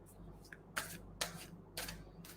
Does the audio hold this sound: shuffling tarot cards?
yes